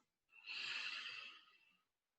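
One slow, deep breath in a sophrology relaxation exercise: a soft airy exhalation swells and fades over about a second and a half, faint and close, with no talking.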